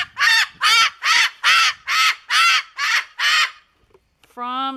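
A Moluccan and a sulphur-crested cockatoo in an aviary give eight loud, harsh squawks in a steady rhythm. After a short pause comes a brief tonal call.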